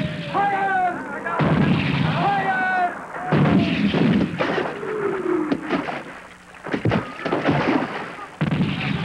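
Cannon fire in a 1973 pirate comedy film scene: deep booming blasts and thuds mixed among shouting voices and bird-like squawks, loud and chaotic.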